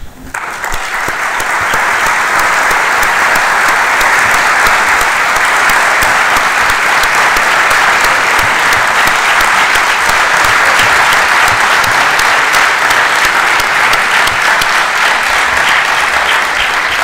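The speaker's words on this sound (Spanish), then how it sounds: "Yo os invito a que demos a nuestro invitado un cerrado aplauso" A conference audience gives an invited guest a long, loud, sustained round of applause that swells within the first second and stays dense and even with no talking over it.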